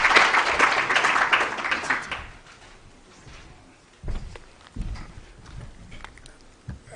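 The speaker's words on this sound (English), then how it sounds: "Let's give him again another round of applause." Audience applause after a talk at an electricity transmission research conference, a dense burst for about two seconds that quickly dies away, followed by a few scattered thumps and shuffling.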